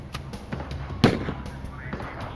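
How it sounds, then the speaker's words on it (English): Several sharp gunshot cracks ring out in quick succession, one noticeably louder blast midway, over a low rumbling background. "Bammel blocked McLean's exit with gunfire."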